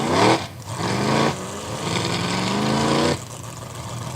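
A sprint racing boat's engine runs loud and close at a trailer launch, a harsh buzzing drone that dips briefly twice before surging back, then settles to a lower level near the end.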